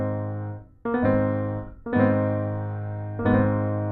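Gospel piano chords played with slurs, each reached by a quick three-note run, three sustained chord strikes ringing out clearly and alone.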